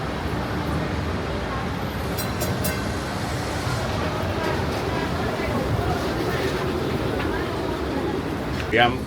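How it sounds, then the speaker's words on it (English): Steady rumbling and rattling from inside a moving Hong Kong tram, a dense continuous rolling noise with a few brief squeaks and clatters, no speech. "I am with Andrew in the Hong Kong tram."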